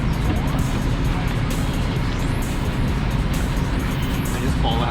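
A Suburban being driven around a corner makes a loud, close, steady rumble of engine and road noise, with a voice faintly mixed in.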